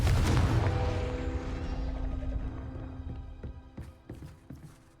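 Bombarda and Confringo spell blasts in Hogwarts Legacy, a loud booming impact at the start that decays slowly with a ringing tail, followed by a few fainter sharp pops near the end.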